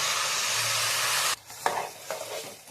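Rice and sautéed vegetables are stirred in a pan for biryani: a loud, dense sizzle for about a second and a half, which then drops to a quieter scraping with a few sharp stirring knocks, close up and with no talking.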